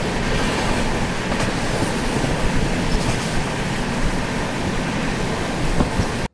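The Mumbai–Howrah Duronto Express rumbles along at speed, heard from inside a first AC coach as a steady, loud roar with faint clickety-clack of wheels over rail joints, ending abruptly.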